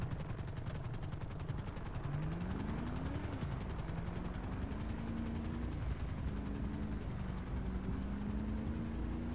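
A helicopter flies in Grand Theft Auto role-play, its rotor chop a constant dense drone throughout while a rising and falling engine whine sweeps over it in the mid range. It is moderately loud and heard with no talking.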